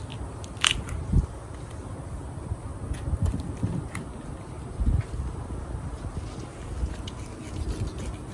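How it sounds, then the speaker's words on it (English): A small bone from a wild pig snapped during butchering: a few sharp cracks and crunching knocks over quiet handling noise, close and fairly faint. "And that bone is just very small right there. Okay, so you can break it and then cut through."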